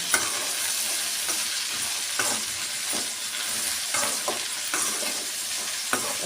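Okra and potato for a bhindi aloo fry sizzle over a low flame, giving a continuous close crackle with soft stirring scrapes now and then.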